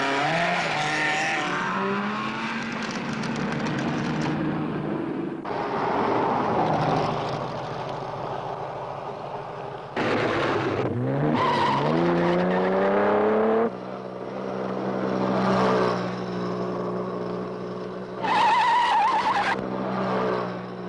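A racing car on a timed run sweeps past, engine note rising and falling through several passes, with abrupt cuts between moderately loud drive-bys and a brief tire squeal.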